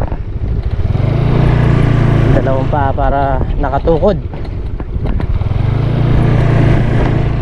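Motorcycle engine ridden slowly over a very rough, potholed rural road, a steady low drone with wind rumble throughout while someone talks over it.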